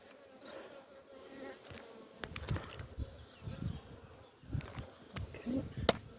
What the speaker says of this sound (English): watch the bees there for a while.